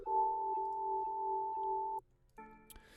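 Sustained synth chord from a Serum preset run through a spectral gate plugin, steady with faint periodic gating pulses, cut off after two seconds, then a short brighter chord stab after a pause.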